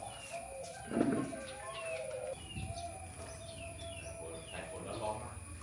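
Doves coo softly and repeatedly at a bird farm in Nong Chik, Pattani, where chickens are also kept, with a brief flutter of wings amid a steady outdoor background hum.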